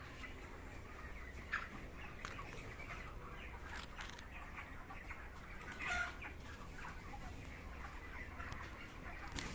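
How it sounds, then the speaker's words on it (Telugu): Chickens at a poultry farm give soft, scattered clucks over a dense, constant murmur of the flock, faint and spread out with no talk. "కోళ్ళ ఫామ్ చూస్తే భలేగా ఉన్నది."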